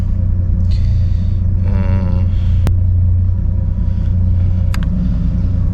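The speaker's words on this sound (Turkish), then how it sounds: "Şimdi o gaz verdik." A Chevrolet Impala engine idles with a deep, loud rumble, with a brief rev partway through and faint higher whines above the steady low drone.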